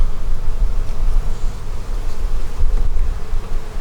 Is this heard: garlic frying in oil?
no